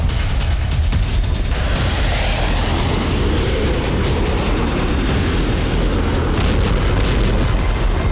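Storm Shadow cruise missile strikes on the Novoshakhtinsk oil refinery in Russia, heard as loud, continuous booming rumble with dense low-end roar and scattered bursts across the whole stretch, no speech.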